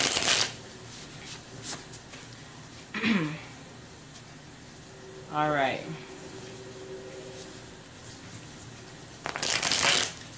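Tarot cards are shuffled in a few brief, crisp riffling bursts separated by pauses, close and fairly quiet, with a person speaking briefly between them.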